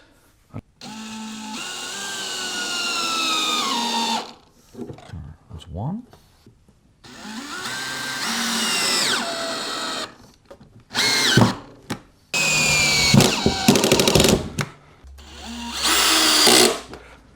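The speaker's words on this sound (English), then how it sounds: "I'll just drill them straight in, I guess" A power drill whirs in several bursts, winding up and slowing as self-tapping screws drive into wood on a wall, with short pauses and a few spoken words between.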